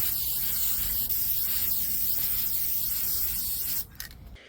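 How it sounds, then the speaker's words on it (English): Krylon matte fixative sprayed from an aerosol can onto painted Christmas cards, a steady, close, continuous hiss lasting several seconds before it cuts off abruptly. "So I sprayed them with fixative"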